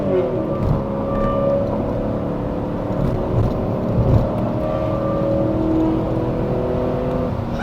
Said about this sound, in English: V8 power.